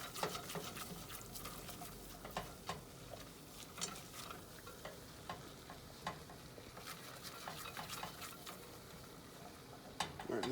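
A whisk stirs a flour roux cooking in a pan for mac and cheese, with soft continuous sizzling and light scraping taps against the pan, quiet and steady throughout.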